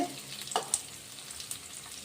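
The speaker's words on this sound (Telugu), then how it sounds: "ఉల్లిపాయలు వేసుకుంటున్నా ఉల్లిపాయలు కొంచెం ఎక్కువే వేసుకోవాలి" Onions frying in oil in a pan give a soft, steady sizzle with a couple of brief stirring clicks, close but quiet, over about two seconds.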